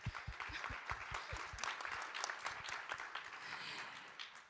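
An audience applauds at a WindWorks 2023 offshore wind energy conference panel, a moderate burst of clapping that tapers off over a few seconds.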